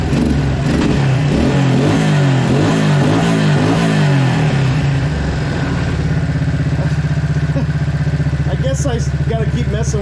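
A 1993 Suzuki King Quad 300 4x4 ATV engine runs loud and close, surging unevenly through rough revving bursts before settling into a steadier, strained idle.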